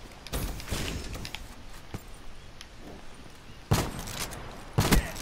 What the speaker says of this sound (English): That's my shotgun.